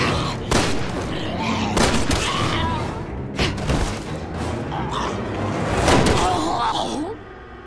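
Sharp gunshots ring out in the Resident Evil 6 game, several scattered cracks and thumps mixed with loud in-game voices shouting.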